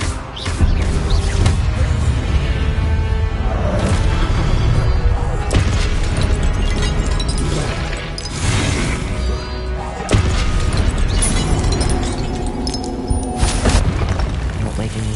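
Explosive spells cast in a wizard video game make a dense, continuous barrage of loud booms and crashing blasts, with sharper impacts punching through around the middle and near the end.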